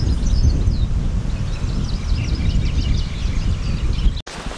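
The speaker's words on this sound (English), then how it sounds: "you can hear all sorts of bird songs here" Varied bird songs near a monastery along the Camino Francés between Castrojeriz and Frómista, scattered chirps and trills carried over a steady rumble of wind noise, with a brief dropout near the end.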